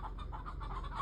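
Soft, steady clucking from chickens while a bobcat tries to get at them, a low continuous murmur of hen sounds with a few brighter notes, at moderate distance.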